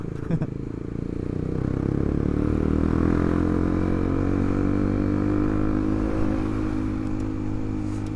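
Motorcycle accelerating at full throttle on a night road, with a loud sustained engine roar and rising harmonic whine that holds strong for several seconds before easing slightly.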